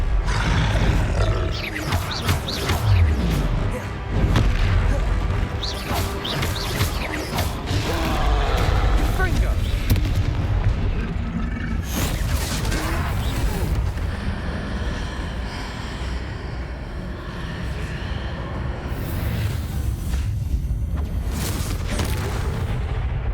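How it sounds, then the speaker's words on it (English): In the Hogwarts Legacy video game, a Confringo fire spell blasts against a troll amid a loud, dense run of booms, crashes, roars and grunts from the fight. "Confringo!"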